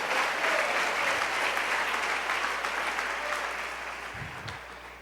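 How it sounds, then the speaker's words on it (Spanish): Sustained applause from a crowd, dense and loud, fading slightly toward the end. "Dale ese aplauso al Señor esta noche"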